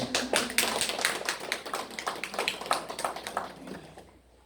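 A church congregation claps together during Sunday worship, a dense burst of hand claps that holds steady and then thins and fades out toward the end.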